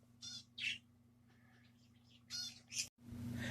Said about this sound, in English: except for the birds. I can't control them.